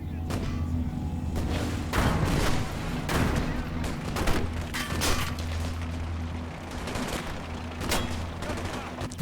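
Gunfire on a World War II Kursk battlefield in the strategy game Gates of Hell, with sniper rifle shots mixed into dense, scattered reports and distant booms over a constant rumbling engine drone, with some voices in the background.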